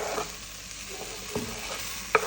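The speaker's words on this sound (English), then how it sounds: "I'm just going to add in my 2 onions" Onions added to a hot pot of oil for green beans bredie, giving a steady close sizzle with a few light utensil scrapes and a sharp clink near the end.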